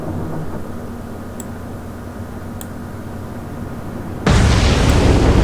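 A torpedo strikes a ship in the naval war game Atlantic Fleet: steady low rumbling builds into a sudden loud, broad explosive roar near the end that keeps going to the close.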